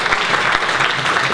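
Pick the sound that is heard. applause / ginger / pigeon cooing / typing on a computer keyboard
applause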